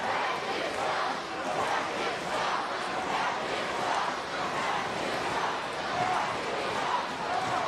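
Home crowd at a San Antonio FC versus Detroit City FC soccer match, a roaring mass of voices rising and falling in waves of jeering, with a commentator's voice faintly beneath.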